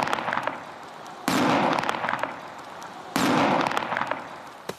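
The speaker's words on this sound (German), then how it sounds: "Ein Sprengversuch an Kohlköpfen macht den Unterschied deutlich." An illegal Czech firecracker blasting cabbage heads in a detonation test, two sharp, loud explosions a couple of seconds apart, each followed by a broad crackling wash of debris and echo.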